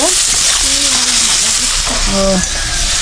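Prawns fry in a home kitchen pan with a steady, loud sizzle and crackle, while voices talk over the cooking noise with rising and falling tones.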